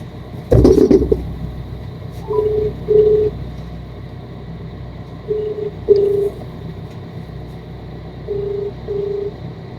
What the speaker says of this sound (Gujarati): હવે હું આપણી તમારી સામે એને ફોન કરું છું